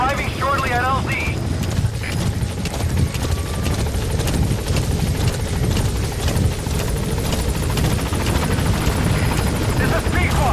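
The Pequod extraction helicopter in Metal Gear Solid 5 drones loudly and steadily with a thick rotor roar, and a brief mechanical chirp sounds at the start.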